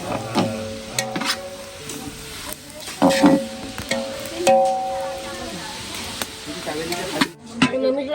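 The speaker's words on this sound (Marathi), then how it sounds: "कांदा टाकलाय भाजायला आणि भाजून घेते कांदा" Onion roasts in a pan to be ground with coconut for a chicken masala, crackling and sizzling under clattering stirring that comes in bursts, with a voice talking in the background.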